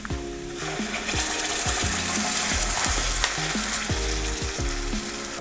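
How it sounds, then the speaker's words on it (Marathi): Spinach puree for restaurant-style palak paneer hits a hot pan with spices and sizzles loudly. The frying hiss is steady, broken by rhythmic stirring scrapes close by, with no talk. "आता यामध्ये मी सोडते ही प्युरी।"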